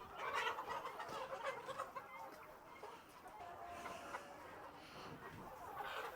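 Silver lace Wyandotte chickens clucking in a busy, continuous chorus of overlapping calls, close and fairly loud throughout.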